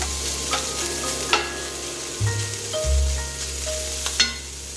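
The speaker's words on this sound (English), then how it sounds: "we're going to fry this up on a high heat until it becomes crispy on the edges" Slow-cooked carnitas pork fries over high heat in a pan, a steady loud sizzle with occasional stirring scrapes and clinks throughout, close up and without speech.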